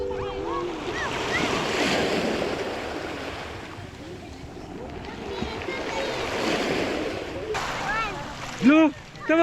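Surf rolls onto a beach in broad washing swells that rise, ebb and rise again, mixed with wind on the microphone while excited voices shout and talk over it.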